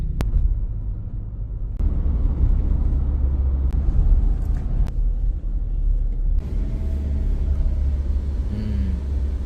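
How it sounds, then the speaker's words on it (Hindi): A Mahindra Scorpio BS6 diesel SUV drives along with a steady, loud low engine and road rumble throughout, broken by a few sharp clicks or bumps. "हम दोनों बस चला ही रहे हैं इस गाड़ी को।"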